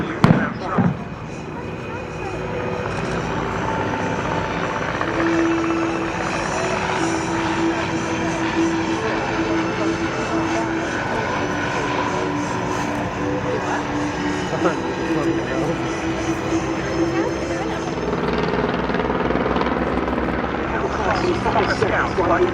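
A de Havilland DH9 WWI biplane flying at the Battle of Britain Airshow 2024, its piston engine a steady, sustained drone held at a constant level throughout, with public-address commentary audible over it.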